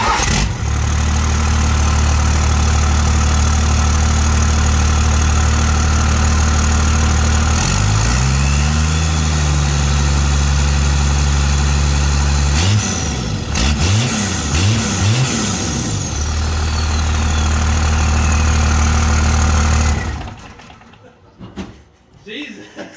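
A first-generation Cummins diesel engine with an exhaust delete idles loudly, then revs in several sharp throttle blips that rise and fall, before cutting off near the end; a voice is briefly heard.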